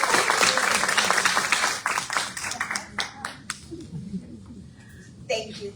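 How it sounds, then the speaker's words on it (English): A room full of people at a membership meeting gives a burst of loud applause that thins out into scattered claps, with a voice and some chatter mixed in. "Please join me with a big applause"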